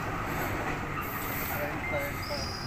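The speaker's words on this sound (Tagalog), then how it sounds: "Ayan ang, ayan yung train. Ang train ng Melbourne." A Melbourne train rolls past nearby with a steady broadband rumble of wheels on rails and faint high squeals, continuous throughout.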